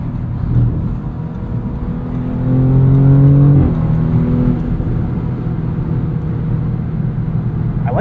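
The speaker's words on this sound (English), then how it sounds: "I like the sound of this V6." A 2023 Audi S6 V6 engine pulls hard through the revs from inside the car, rising in pitch to a peak mid-run, then dropping back to a steady low drone.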